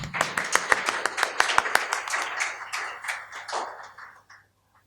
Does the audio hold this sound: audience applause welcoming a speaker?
yes